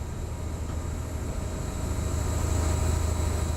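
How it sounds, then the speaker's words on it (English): A noisy HST high speed train in Train Simulator Classic on the Edinburgh–Glasgow route, a loud continuous rumbling drone with a steady whine that builds slightly toward the end, heard alone. "that's a HST. It's a very noisy HST"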